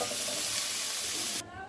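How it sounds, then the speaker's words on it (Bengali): Cauliflower florets frying in hot oil in a kadai, a steady loud sizzling hiss that cuts off abruptly near the end, leaving a quieter hiss. "এভাবে আমরা ফুলকপিগুলো আগে ভেজে নিব।"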